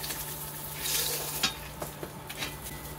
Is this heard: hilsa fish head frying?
yes